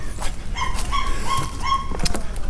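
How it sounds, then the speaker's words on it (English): A dog barks a few times at a distance near a dock, short yelping barks spread across a few seconds over light outdoor ambience. "There's a dog barking away."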